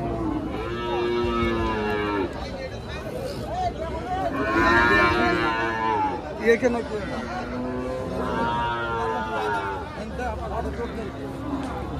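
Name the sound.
large cow mooing at a cattle market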